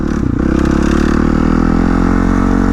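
A 450cc Suzuki RM dirt bike runs close and loud, its engine holding a rapid, pulsing rev with a rough, buzzing drone after a brief clatter at the start.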